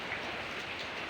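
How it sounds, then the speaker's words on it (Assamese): Rain falling outdoors on a wet day, a soft, even hiss of drops that holds steady for a brief moment, faint and with no voices. "আজি বৰষুণ দি আছে।"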